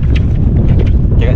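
Strong wind buffets the microphone at the seashore, a constant loud low rumble with rough water movement, while a person talks over it throughout.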